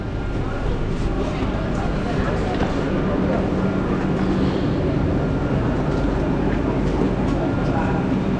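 A Vande Bharat Express train departs Chandigarh station, rumbling past nearby with a steady low hum and clatter while faint voices murmur in the background.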